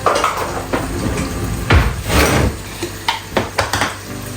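Metal spoon clinking and scraping in a cooking pot while spices go in for a pork and vegetable dish, with loud close clatters and knocks, some sizzle underneath.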